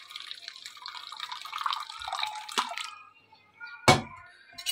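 Warm water is poured for dyeing eggs at home: a few seconds of splashing trickle, a sharp splash near the end, then quiet dripping, close by.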